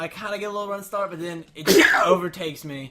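A single sharp sneeze bursts out in the middle of a man's ongoing speech, loud and close, with talking continuing immediately before and after it.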